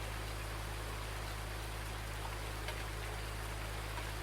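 Steady, faint rain patters in Farming Simulator 19, a constant even wash of noise over a low hum with no voices and no breaks.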